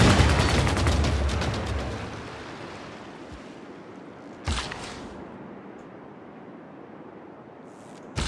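Gunfire in a Warhammer-themed Civilization 6 battle: a dense burst of shots at the start fades into a rumbling wash, with a single sharp report near the middle and another at the end.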